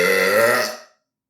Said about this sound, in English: Nice little burp.